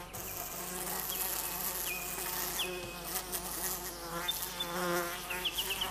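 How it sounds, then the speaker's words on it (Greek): Honeybees swarm and buzz around a beekeeper's hives in a lonely mountain landscape, a dense, close drone of many wings with shifting whines as individual bees fly past the listener. "Ο Κυρπαναγιώτης ελέγχει τις μέλισσες, τις μόνες συντρόφισσες στο απόλυτο μοναχικό τοπίο"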